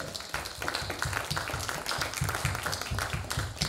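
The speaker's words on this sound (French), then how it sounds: "Je vous demande d'accueillir et d'applaudir M. Christophe Koréki." An audience at an agro-industry panel event applauds steadily for a few seconds to welcome a panelist, the clapping fairly soft and even throughout.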